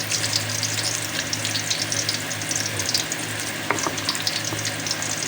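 Ginger frying in a pan for a chicken feet dish crackles in a continuous close sizzle with fine popping spatters, plus a few faint clinks near the end.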